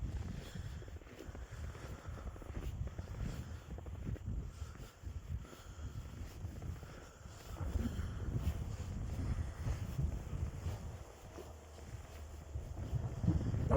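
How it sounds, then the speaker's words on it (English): Wind gusting steadily outdoors during a snowstorm in South Carolina, a continuous low rushing roar with microphone buffeting that swells and eases, no voices present. "Our wind's starting to pick up"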